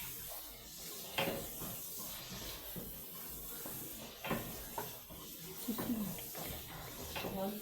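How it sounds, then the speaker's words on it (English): Onions frying in a pan on a home stove, a soft steady hiss and sizzle with occasional spits and stirring clatter, heard close with a person talking over it. "I'm going to check our onion. It's still frying."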